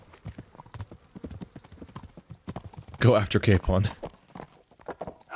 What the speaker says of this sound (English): You were walking through my horse, which was completely stationary, you lunatic